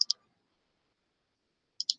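A computer mouse gives two quick double clicks, one at the start and one near the end, sharp and close against silence.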